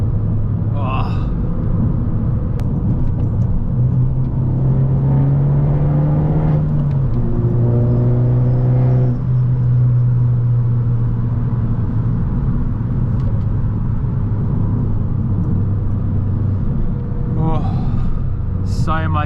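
An Abarth 595 Turismo drives along country roads, its engine a steady close rumble with rising and falling revs, under faint breathy vocal sounds and some speech from inside the cabin.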